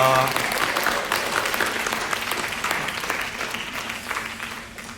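A church congregation at a youth service claps in thanks for the choir, a full, steady round of many hands that starts strong and slowly fades, with a brief voice at the very start.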